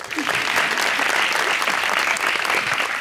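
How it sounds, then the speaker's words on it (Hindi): An audience claps in a steady, dense burst of applause from a crowd at a talk show. The clapping sounds close and even, runs the whole time and stays loud throughout. "उनके लिए भी तालियां"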